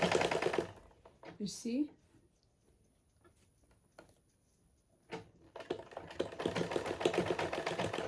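A sewing machine runs close by while stitching a sleeve, a short whir at the start, then a quiet gap with faint clicks and a brief spoken word, before a longer steady run of needle chatter resumes.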